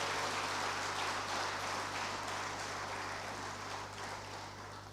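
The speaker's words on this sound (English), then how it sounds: "please let us thank, with a resounding applause, the German ambassador and the head of GIZ" At an opening ceremony, an audience applauds the German ambassador and the head of GIZ, a continuous crowd clapping over a constant electrical hum that eases slightly near the end.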